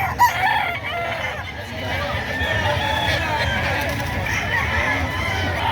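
Roosters crow repeatedly at a market selling gamefowl, loud and close over a busy background of crowd chatter and voices.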